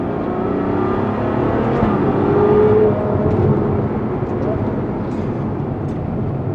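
A Ferrari GTC4Lusso's V12 engine gives a loud, steady, close roar that swells briefly midway and then holds at a constant pitch, heard alone without talk.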